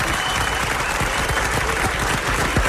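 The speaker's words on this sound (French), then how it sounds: "Ça c'est la foule du Forterrama" A large crowd at the Forterrama applauds continuously, a dense, loud wash of clapping with scattered sharper claps and no pauses.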